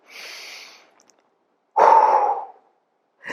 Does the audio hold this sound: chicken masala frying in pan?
no